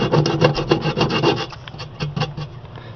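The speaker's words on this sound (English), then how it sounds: "you'll want to go over it with the heavy grit first so it'll break up the" Heavy-grit sandpaper scrubs paint off a mini fridge in quick, close, rhythmic rasping strokes that lighten and thin out partway through.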